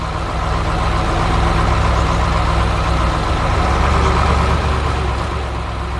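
A truck engine runs at a steady low rumble with a constant mechanical drone, heavy and close, with no voices.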